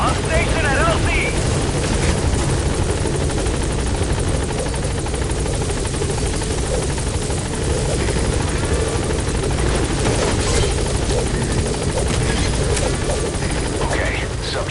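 A helicopter arriving at a landing zone in the Metal Gear Solid 5 video game, its loud steady rotor chop and engine roar continuous and close throughout, with radio-style voices speaking over it.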